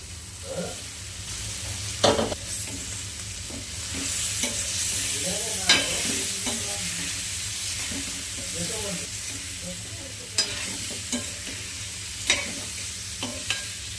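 Potatoes sizzle and fry in a pan while being stirred for a dry potato dish, with steady hiss broken by scraping stirs and a faint voice now and then.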